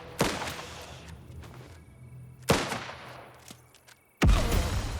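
A grenade explosion and gunfire in a video game: three loud, sharp blasts, each trailing off in a rumbling decay, the last one heavy and sustained.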